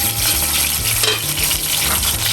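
Chicken sizzles loudly in hot oil in a karahi for chicken koyla charsi karahi, a dense steady hiss of frying with occasional stirring scrapes, close and continuous with no talk.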